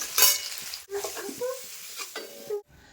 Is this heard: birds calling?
no